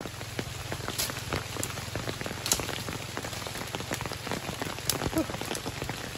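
Heavy rain drums steadily on a hard surface, with dense patter and occasional louder drops, continuous and close.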